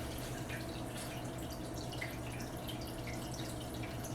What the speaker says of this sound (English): It's splashing up on my light.